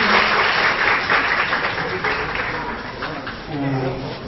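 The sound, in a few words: audience applause welcoming a teacher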